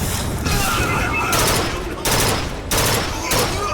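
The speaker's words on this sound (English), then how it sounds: "it's the burst gun" Burst gun in the BioShock Infinite: Burial at Sea game firing dense, loud rapid volleys that come in repeated bursts over continuous battle noise.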